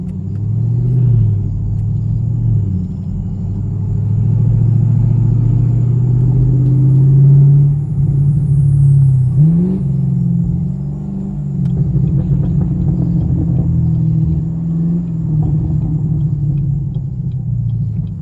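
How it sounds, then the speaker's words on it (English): A deep, rumbling turbocharged 500 HP Camaro SS V8 with straight pipes idles and revs in surges, loud and nearby, with no voices over it. "Y'all hear those turbos?"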